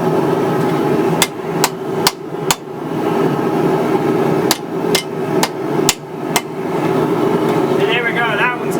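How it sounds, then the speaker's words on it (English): A rubber mallet strikes hot Damascus steel billets to flatten them rather than forge them, giving sharp, loud single whacks in small clusters over a steady background hum. "I'm just going to use a rubber mallet because I'm not forging,"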